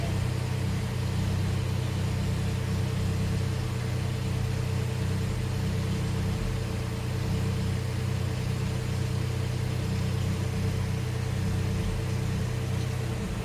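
A Nissan Z24E engine with a fault idles roughly, a steady close low rumble with a constant hum and slight unevenness that continues throughout, with no voice.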